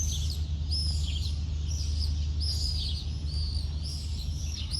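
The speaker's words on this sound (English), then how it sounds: "Look at these little birds that I have recorded as well early in the mornings." Small birds sing in the early morning in Greece, high chirps and warbling phrases repeating steadily over a constant low hum, moderately distant.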